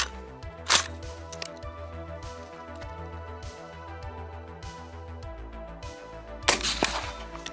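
Sharp cracks from a Daewoo DR200 rifle firing outdoors at steel targets, two distinct loud reports several seconds apart with a steady low background hum between them.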